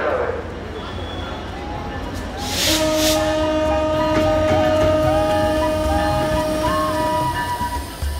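A train sounds a long, steady horn at Syedpur railway station in Nilphamari, over rumbling rail noise and background bustle, with a brief hiss partway through.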